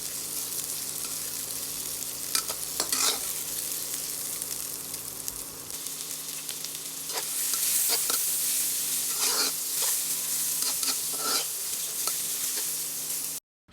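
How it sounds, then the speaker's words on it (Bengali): Chopped garlic and onion sizzle in hot mustard oil in a pan, a steady crackling fry with occasional stirring scrapes and a louder burst of sizzle partway through, close and continuous without talk. "তেল একটু গরম হয়ে যাওয়ার পর এর মধ্যে সামান্য পরিমাণ রসুন কুচি দিয়ে দেব এবং আরও দিয়ে দেব পেঁয়াজ কুচি।"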